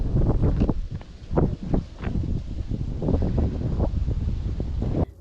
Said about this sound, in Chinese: 感受一下微风。